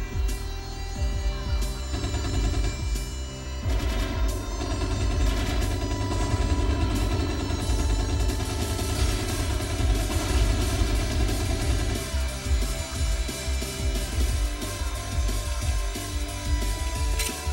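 Gunfire and exploding planes in a Wii plane-combat game ring out over a steady droning engine hum, with bursts and booms rolling continuously throughout.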